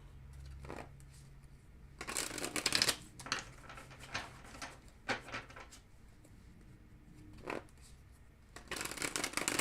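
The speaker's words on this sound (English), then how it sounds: "you can hear the cards being shuffled" Bursts of riffling cards, several quick shuffles separated by pauses, crisp and close, with no talking.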